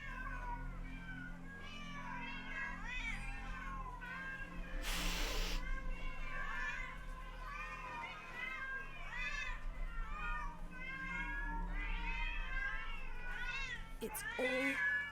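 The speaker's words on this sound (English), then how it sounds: "That's a lot of cats." Many cats meow at once in the horror point-and-click game The Excavation of Hobs Barrow, a dense overlapping chorus of mews and wails lasting throughout, with a brief hiss-like burst midway.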